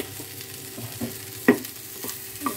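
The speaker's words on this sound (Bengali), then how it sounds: "এবার আমি আবার নাড়ছি" Potato and pointed gourd bhujia sizzles softly in a pan while a spoon stirs it, with a steady frying hiss broken by light scraping knocks, close by and without talk.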